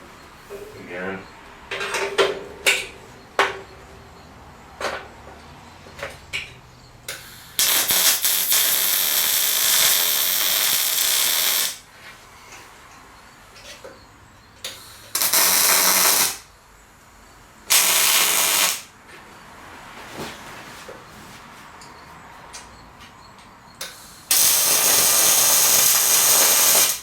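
Welding on a steel skid frame: several long, loud bursts of harsh crackling hiss, each lasting a few seconds, broken by pauses filled with clanks, taps and handling of metal parts.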